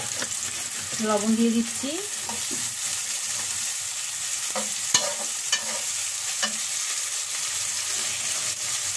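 Lentils and onion frying in a pan give a steady, close sizzle throughout, with a few light stirring scrapes and clicks; someone speaks briefly near the start.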